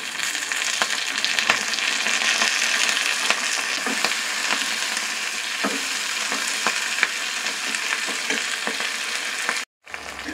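Chillies and ganga vavili leaves sauté in a pan with a steady, close sizzle and repeated stirring scrapes throughout, cut by a brief gap near the end.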